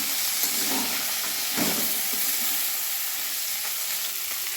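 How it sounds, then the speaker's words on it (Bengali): Fish frying in a pan over a gas flame at high to medium heat, giving a dense, continuous hissing sizzle close up, with a faint stir or shift of the pieces partway through and no voices. "এবার আমি গ্যাসের ফ্লেম হাই টু মিডিয়ামে রেখে মাছ ভেজে নেব।"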